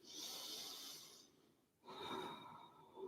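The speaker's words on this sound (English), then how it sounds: "Let's just take 3 deep breaths." Deep breathing during a yoga session: one long, soft inhale followed by a slow exhale, close and quiet, with no talking.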